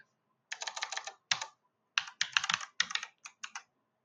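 Typing on a computer keyboard while writing JavaScript code, several close, crisp bursts of rapid key clicks separated by short pauses, with no talking.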